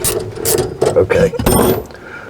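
A hand crank raises the roof lift mechanism of a popup camper, giving loud, close mechanical clicking and ratcheting in uneven bursts, with gears grinding and a voice talking over it.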